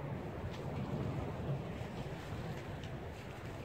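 Steady outdoor wind gusting across the microphone, a broad continuous rush with low rumble, heard alone with no voices while working a horse on the ground.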